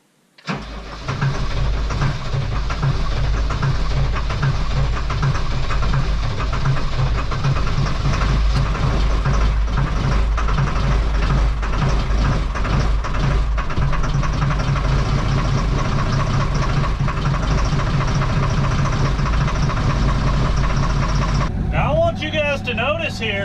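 A John Deere-style TS115A tractor engine, cold after sitting unstarted for over a week, runs steadily at raised throttle with a loud, continuous low chug that holds for about twenty seconds before dropping off near the end.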